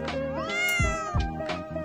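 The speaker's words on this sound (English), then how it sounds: "That's that cat." A pet cat lets out two or three loud, close, drawn-out meows in quick succession, clear and alone with no talking.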